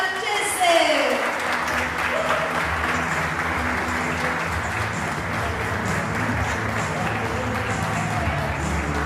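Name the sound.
audience applause welcoming Gloria Marchese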